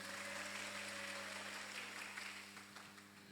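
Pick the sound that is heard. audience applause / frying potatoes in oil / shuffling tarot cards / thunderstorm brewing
audience applause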